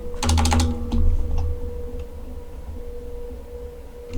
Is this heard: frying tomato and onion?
no